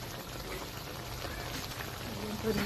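Small amount of water poured into adobong catfish (hito) cooking in a pan, a steady soft splashing pour over a sizzling bubbling simmer, close and moderate in level.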